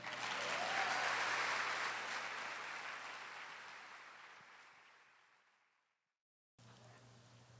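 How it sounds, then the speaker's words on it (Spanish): A church congregation applauds together, a dense wash of clapping that swells early and then slowly fades out, followed by a short silence and a faint return of room hum. "¿Le puede dar un aplauso al Señor?"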